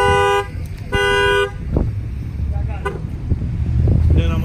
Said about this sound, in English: reach in and open the door from the inside and see if the horn starts honking